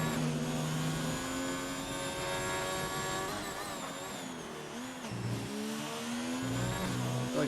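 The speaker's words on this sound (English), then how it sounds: "I like the sound of the Alfa Romeo in this one" An Alfa Romeo Formula 1 car in the F1 2019 racing game at the Hungary circuit screams along at speed, its high engine whine climbing in pitch with brief dips at gear changes, loud and continuous.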